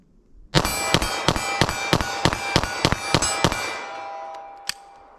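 Rapid string of about ten 9mm pistol shots fired with Sellier & Bellot ammunition at a target 12 yards away, loud sharp cracks in an even fast rhythm, followed by a fading ring and one last distant metallic ping.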